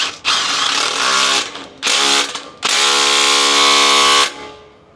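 Bolts being run in with a power tool while fitting rock sliders to a 6th gen Toyota 4Runner: three loud buzzing bursts of whirring and ratcheting, the last the longest, close by with no talk.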